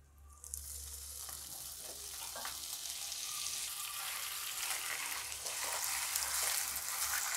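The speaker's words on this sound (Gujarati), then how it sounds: "આ રીતે ગોળને હલાવતા રહીશું।" Jaggery with a spoonful of ghee and water melting in a pan while being stirred for til gajak, giving a steady close sizzle with soft scraping stirs throughout, no talk.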